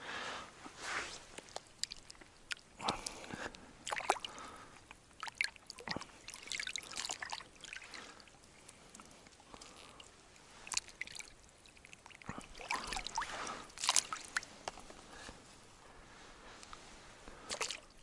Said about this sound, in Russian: Сейчас я его хорошенько отмою от соли.